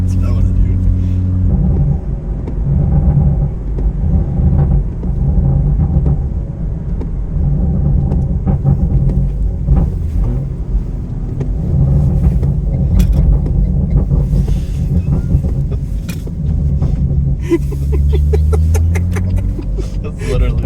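A 300-horsepower stock car drives around a roundabout, its engine giving a loud, steady low rumble throughout that swells and climbs in pitch toward the end.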